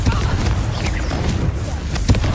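Repeated booming blasts and crackling impacts from Bombarda and Confringo explosion spells in the Hogwarts Legacy game, loud and dense in rapid succession, with a voice shouting over the combat.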